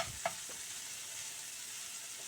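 Ginger stir-fries in a wok alongside enoki pork rolls, a steady broad sizzle with a couple of light stirring taps at the start, heard alone and fairly quiet.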